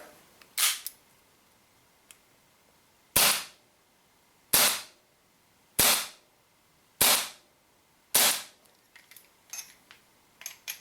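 A silver WE Makarov Baikal Special Edition gas blowback airsoft pistol fires ten sharp, close cracks with a pause after the first; the first five shots are plain and the last five come with a barrel extension fitted.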